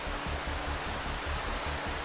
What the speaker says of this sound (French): Et cette cascade sous le pont-canal,